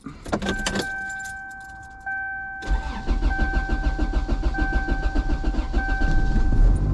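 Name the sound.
car engine starting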